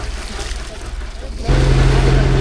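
A fishing boat's engine drones steadily while motoring home on the open sea off Mumbai, a continuous loud rumble with water wash that jumps noticeably louder partway through.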